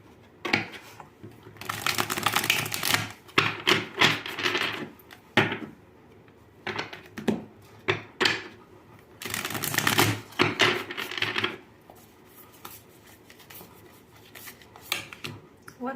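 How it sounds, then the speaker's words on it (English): Tarot cards being shuffled by hand in bursts of rapid riffling and clicking, several flurries separated by short pauses, close and moderately loud with no talk. "I'm going to go ahead and shuffle the cards."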